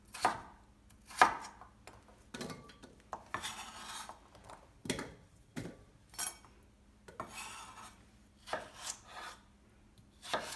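A knife chops Korean radish into cubes for kkakdugi on a cutting board, with a steady series of crisp, close cuts and soft rasping scrapes between them and no talking.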